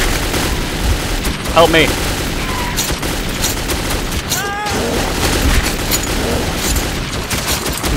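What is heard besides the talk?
gunfire in the video game Metro 2033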